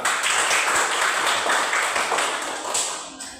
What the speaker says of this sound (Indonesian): oke, baik, tepuk tangan semua